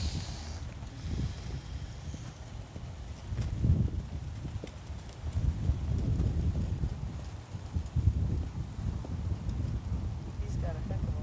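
A horse walks in a riding lesson, its hooves giving a muffled, steady clip-clop mixed with wind noise at the microphone, while people talk over it.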